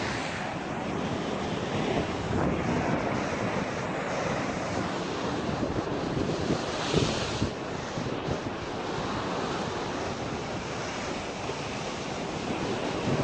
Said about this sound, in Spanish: Aquí es donde entran las olas, que luego salen por el otro lado